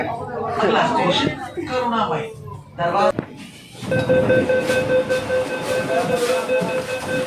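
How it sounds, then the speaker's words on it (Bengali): A metro train runs through a Kolkata-area line, giving a steady rolling rumble with a sustained electric whine and tonal hum, loud and continuous after a stretch of voices talking nearby. "এইটা হচ্ছে মেট্রো ট্রেন তো আমরা তো মেট্রো ট্রেনে চললাম"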